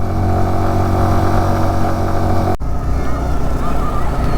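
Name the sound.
loaded motorcycles struggling to climb a snowy mountain road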